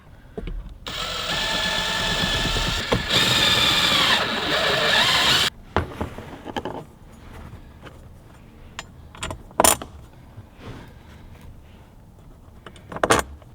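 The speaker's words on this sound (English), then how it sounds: "And then drill the rest of the holes." Power drill running steadily for about five seconds while boring the remaining bolt holes in a Toyota Tacoma 3rd Gen center console storage panel, followed by quieter clicks and handling noises.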